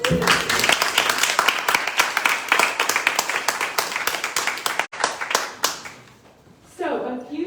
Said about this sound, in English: Round of applause for the working group of evicted.